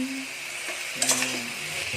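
String bean and tofu adobo is stirred in a pan, a utensil scraping and clinking against the metal over a soft simmering hiss, with a brief sharper clatter midway.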